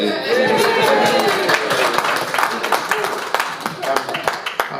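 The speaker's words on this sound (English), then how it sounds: "I was going to give another round of applause for Nick Crawford, but" Steady crowd applause with rapid overlapping claps, loud and sustained, tapering slightly toward the end.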